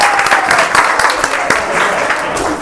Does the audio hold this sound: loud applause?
yes